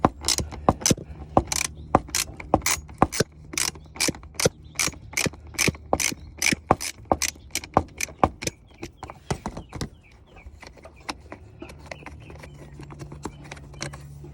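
A hand ratchet loosening a radiator bolt by the wheel well on a 1998-2002 Mercedes-Benz E320 W210, rapid loud clicking in bursts for about ten seconds, then slower scattered clicks, close and alone.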